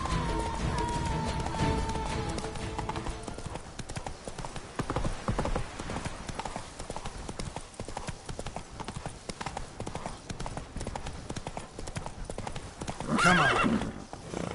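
Roach, Geralt's horse in The Witcher 3: Blood and Wine, gallops with steady pounding hoofbeats for a long stretch, including a whinny and a louder burst of commotion near the end over game ambience.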